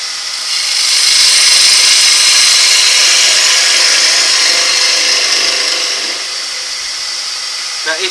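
A woodturning gouge cuts a wooden bowl on a lathe, giving a steady, close hissing scrape that rises after half a second, holds for several seconds, then eases off, with a couple of faint taps at the end.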